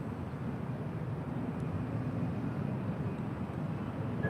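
A Southwest airliner taking off from runway 24 left at LAX gives a steady, broad jet roar at middle distance, holding even throughout with no talk.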